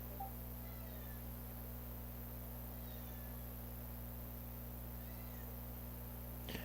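A cat meows faintly a few times in a quiet room, the short, thin calls barely rising above a constant low mains hum.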